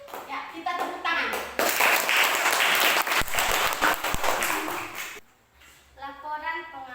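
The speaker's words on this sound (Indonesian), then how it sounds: "Ya, kita tepuk tangan." A class of schoolchildren claps together for a group after a classroom discussion, a dense burst of hand clapping lasting several seconds before fading, with children's voices chattering around it.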